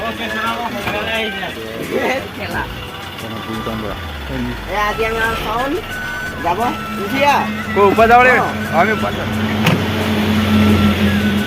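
A car rolls up and comes to a stop with a low engine rumble that dips and settles into an idle, heard beneath several people talking nearby.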